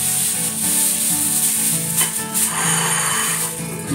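Green chili sizzles as it sweats in a hot pan, a steady, close crackling hiss with occasional stirring scrapes.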